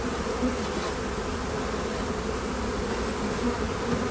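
A steady, dense buzzing of many honey bees close by at an opened hive, continuous and even throughout with no voices.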